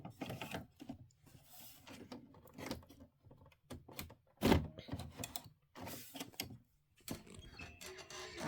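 A computerized embroidery machine stitches a loop tack-down on a snowflake hot pad, giving quick uneven mechanical clatters and whirring bursts with brief pauses, close and fairly quiet.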